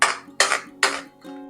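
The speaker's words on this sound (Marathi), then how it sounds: "आणि हे असं आता परतून घ्यायचं." Thick mango and ghee mixture being stirred in a heavy kadhai: three sharp metallic scrapes and knocks of a spoon against the pan in quick succession, then a softer fourth, close and alone.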